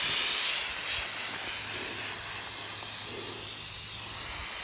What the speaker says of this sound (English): Yeah, you're just spraying it on.